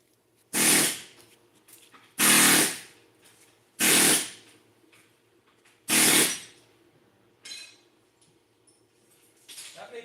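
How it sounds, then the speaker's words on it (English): A power drill bores through folded metal pieces meant for trivets in a blacksmith's shop, four loud bursts of drilling, each about a second long, separated by pauses with faint clinks, and a weaker fifth burst near the end. "I'm going to drill them anyway"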